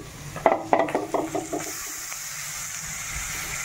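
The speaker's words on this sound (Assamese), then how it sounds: "মাছ ফ্ৰাই কৰি আছোঁ আৰু ইপিনে কচুটো ভাজি আছোঁ।" Dried fish and taro fry in a pan: a quick run of clattering stirs and scrapes at the start gives way to a soft, steady sizzle, heard close with no voices.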